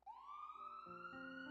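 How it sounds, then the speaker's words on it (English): An ambulance siren arrives in a steady rising wail that holds loud and near, its tone sliding up and sustaining over a brief stretch with no talk. "Just then, the ambulance arrived"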